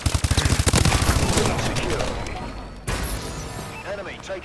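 A sentry gun in Call of Duty: Advanced Warfare fires a rapid, loud burst of evenly spaced shots that fades, followed by scattered game effects and a sharp later impact, with a person talking over it.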